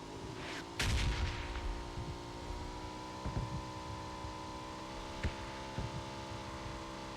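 Bombardment explosions in PUBG Mobile: several dull, heavy booms burst out at irregular intervals over a steady droning game hum, the first one loudest and the later ones fainter and more distant.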